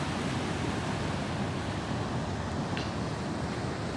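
Floodwater after heavy rain rushes through a normally dry valley, a steady, loud broadband roar of churning water that holds constant throughout with no pauses and no voices.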